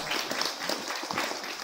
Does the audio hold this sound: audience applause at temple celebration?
yes